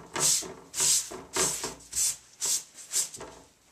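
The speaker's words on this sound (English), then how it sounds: "I'm going to take this and kind of wipe them off" A cloth or tool repeatedly wipes spackling compound off sanded miniature wargame terrain hills, making seven soft, evenly spaced rubbing strokes, close and alone with no talk.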